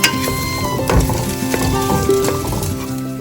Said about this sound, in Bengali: এর মধ্যে আলুটা ছেড়ে দেবো। একটা আলু কেটেছি এরকম ডুমো ডুমো করে। এর মধ্যে একটু আদার পেস্ট 1/2 চামচ মতন দিয়ে দেবো।